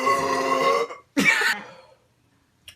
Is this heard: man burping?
yes